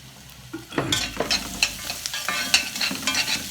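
Onions sauté in ghee in a pan, with a soft sizzle under several scraping stirs of a spoon, close and fairly loud.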